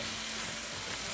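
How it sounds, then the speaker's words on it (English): Meat sizzling and frying in a cast iron pan, a steady close hiss and crackle with no talking over it. "I find that frying meat in a cast iron pan adds a certain flavor that you don't get from non-cast iron pans"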